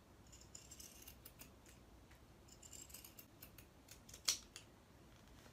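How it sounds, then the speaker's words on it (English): Fabric scissors snip around the edge of a sewn toy rabbit's head piece, a quiet series of soft, sparse cuts with one sharper, louder snip near the end. "you can snip around that edge"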